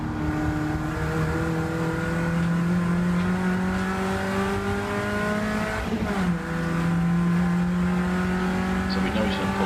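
Race car on a Rockingham trackday accelerating hard down the straight, engine note climbing steadily through a gear change and rising again, loud and close from onboard.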